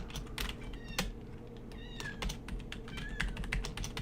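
A cat meows a few times nearby, short rising and falling calls over steady computer keyboard typing in a quiet room.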